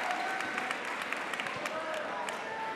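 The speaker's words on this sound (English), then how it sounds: "Now Ryan Yankovic getting a nice round of applause coming out" A crowd in a gym at a high school boys' basketball game applauds a senior player coming out, with loud sustained clapping and crowd noise mixed with nearby voices.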